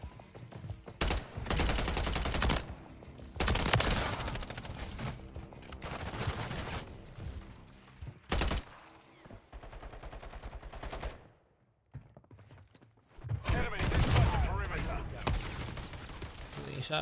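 Rapid gunfire bursts from a Striker shotgun loadout in the shooter game Call of Duty: Modern Warfare III, arriving in loud, dense volleys separated by short quiet gaps, with players talking over the action.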